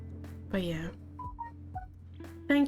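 A phone sounds a few short electronic beeping tones in quick succession, faint and close, between stretches of a person's talking.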